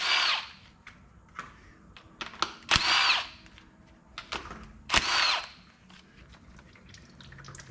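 Power tool working an oil pan drain bolt loose on a car, sounding in a few short bursts with louder whirring spells near the middle and end, with small clinks and handling noise between them.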